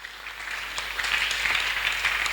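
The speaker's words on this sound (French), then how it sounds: "On acclame, Seigneur" Congregation applauding during a French-language church sermon on the Holy Spirit, a steady wash of clapping hands filling the room throughout without a break.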